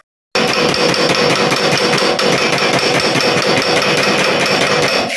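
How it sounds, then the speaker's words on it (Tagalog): Rapid, steady hammer blows knock a tight axle out of a motorcycle's swing arm and wheel, loud, close metallic strikes repeating several times a second without pause. "medyo bilisan mo ngayon yung pagpukpok ng konti-konting gano'n, para mabilis matanggal"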